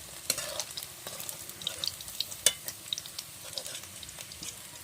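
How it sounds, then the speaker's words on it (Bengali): Brinjal fries in hot oil with a soft, steady sizzle, broken by light clicks and scraping taps of a utensil stirring in the pan; quiet and close, with no talking. "বেগুন ভাজা হয়ে গেছে, এরকম লাল লাল করে ভেজে নেবা"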